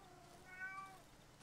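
A cat gives a single short meow, faint and somewhat distant against quiet room noise.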